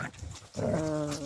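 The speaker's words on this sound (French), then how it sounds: "c'était mon chien qui faisait l'imbécile" A pet dog growls low, then breaks into a drawn-out, whining whimper, close and fairly faint, with no voices.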